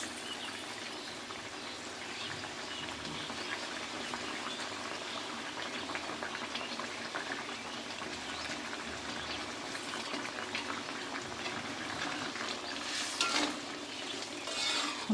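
Pieces of fried biget fish simmer in a pan of spiced gravy, giving a steady bubbling sizzle throughout at moderate, even loudness.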